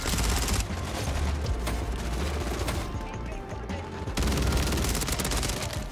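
Rapid ISO 9mm SMG gunfire in the video game MW3, dense bursts of shots rolling almost without pause, loud and up close across the whole stretch.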